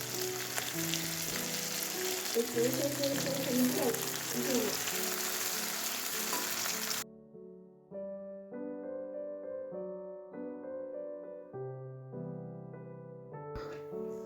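Biryani ingredients sautéing in a pan give a steady close sizzle and crackle for the first half, then the frying fades beneath quieter background sound.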